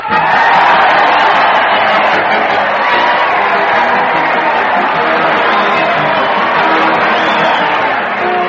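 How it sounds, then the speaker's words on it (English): A studio crowd at a 1936 Fred Allen radio comedy show cheers and whoops as a parade heads to the old Town Hall, a loud continuous roar of voices with shouts rising through it and no break. "Listen to that crowd. They're jumping up and down and cheering as Fred Allen leads his weekly parade to the old Town Hall."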